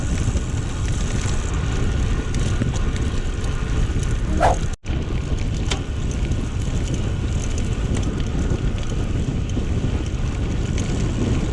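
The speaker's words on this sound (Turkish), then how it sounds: "Çok rüzgar var." Strong wind roars steadily against the microphone on a long road-bike ride up a climb, a dense rumbling rush that barely lets up, with a brief dropout midway.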